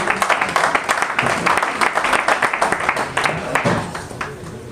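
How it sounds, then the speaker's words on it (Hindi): Audience applause at a one-day leadership development programme, a dense, steady wash of clapping from a full hall that fills the clip and fades slightly near the end, with voices mixed in. "एक बार जोरदार तालियां"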